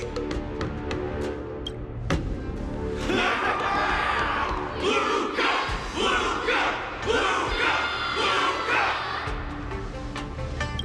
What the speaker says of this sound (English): Everyone's cheering for you, Luca!